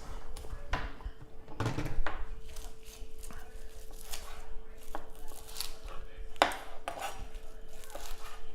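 Kale is chopped with a Cutco knife on a cutting board, giving a series of irregular crisp knife strikes close up at moderate volume over a faint steady background hum.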